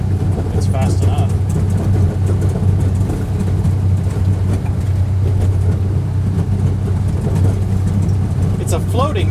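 A John Deere Gator 835M utility vehicle drives through snow with a steady low engine rumble and cabin drone throughout, while people talk over it.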